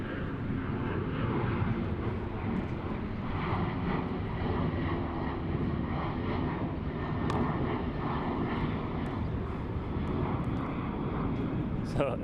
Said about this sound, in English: So as you guys can hear, Billie Jean King Tennis Center has turned into a runway.